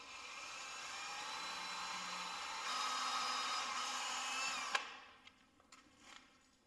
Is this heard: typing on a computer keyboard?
no